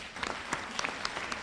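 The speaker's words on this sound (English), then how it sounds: "round of applause for them?" Applause from an audience at a parliamentary exhibition launch in Jamaica, honouring named contributors; a short, fairly quiet patter of scattered claps with a few sharper hand strikes standing out.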